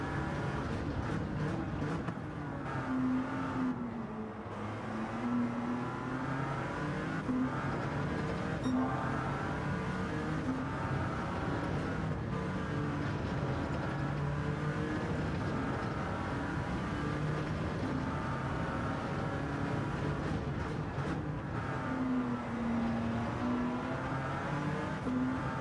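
A race car engine drones steadily in a racing video game, its pitch rising and falling through gear changes and revs across a continuous, moderately loud run.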